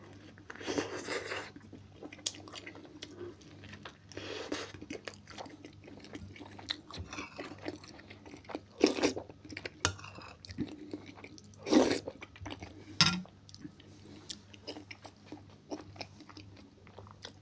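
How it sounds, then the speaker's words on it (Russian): Someone eating vegetable soup with sandwiches, with quiet chewing and occasional crunchy bites in a close, calm setting, soft smacking spread over the whole stretch without talk. "Кушаю, стараясь культурно, как получается."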